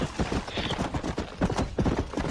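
A horse's hooves in Red Dead Redemption clop in a quick, even galloping rhythm, close and clear with no talk.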